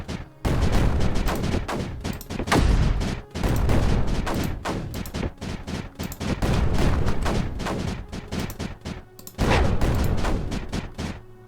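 Cannons fire in Creeper World 4 in rapid, overlapping volleys, a dense crackling barrage that continues almost without pause, with brief gaps between bursts.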